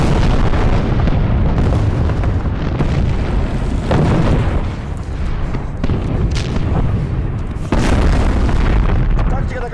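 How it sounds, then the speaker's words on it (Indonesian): Heavy booming blasts roll out one after another, loud and close, with a constant rumbling din and voices mixed in underneath. "Tembakan artileri pun diluncurkan."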